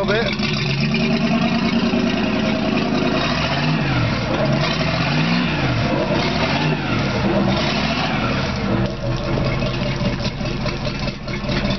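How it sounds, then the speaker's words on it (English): An outboard boat motor that had been sitting is throttled up a little, its steady running note rising and falling in a few mild revs, loud and close throughout. "Throttle it up a little bit."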